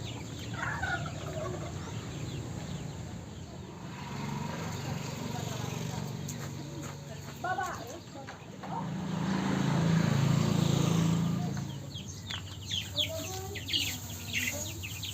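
Young chicks cheep and cluck in a crowded batch as they are transferred from crates into a larger coop, with a busy chorus of peeping over rustling and a person speaking throughout.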